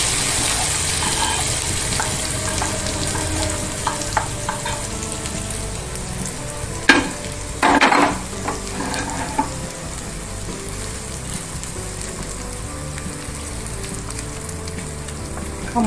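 Tempering spices sizzle in hot oil for a raw mango and carrot chutney, a steady crackling hiss running throughout with a couple of brief louder spatters midway.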